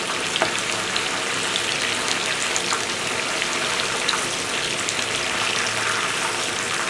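Chicken pieces frying over high heat in a pan, a constant loud hiss of spattering oil with rain-like crackle and occasional pops, steady throughout and close, no one speaking.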